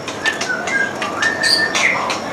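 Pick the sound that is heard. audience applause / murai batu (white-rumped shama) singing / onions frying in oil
murai batu (white-rumped shama) singing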